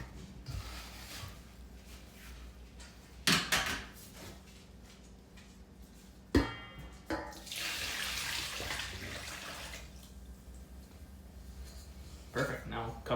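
Brine pours and splashes over goldeye fish in a container, a steady watery rush broken by a few clattering knocks.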